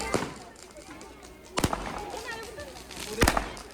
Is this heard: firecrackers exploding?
yes